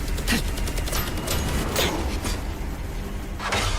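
Anime gunfire, a dense continuous barrage of rapid shots with sharper bursts punctuating a loud, noisy roar throughout, no talk.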